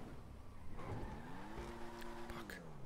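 Car skidding and crashing in GTA V, a quiet engine rising in pitch with a tyre squeal and a brief impact, mixed with faint game noise and background talk.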